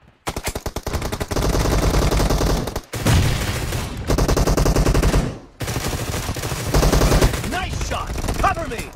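Rapid automatic gunfire in PUBG BGMI Mobile, a team deathmatch, rattles in long loud bursts separated by brief pauses, close and dense, with a final burst trailing off.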